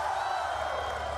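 Crowd noise from thousands of spectators at a Call of Duty esports championship venue in Atlanta, a steady roar of cheering with scattered whoops, loud and continuous for a moment with no clear pause.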